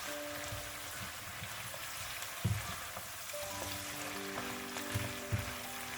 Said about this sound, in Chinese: 再次翻炒均匀，炒出酱香味，并且使排骨都可以均匀地裹上一层料汁